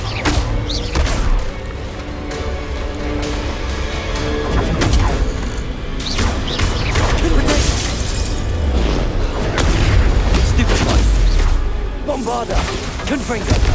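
Repeated Confringo spell blasts in Hogwarts Legacy: dense, loud explosive bursts and crashing debris run continuously through a chaotic fight, with a voice speaking over them at times.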